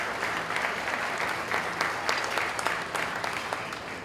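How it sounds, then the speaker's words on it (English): Audience applause fills a room at an awards luncheon, steady dense clapping from many hands sustained throughout, moderately near with no talk over it. "So please give yourself a big round of applause."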